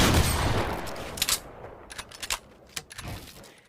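Combat shotgun in the video game Fortnite firing in quick succession, a run of sharp close blasts in an irregular rapid rhythm, with no talk over it.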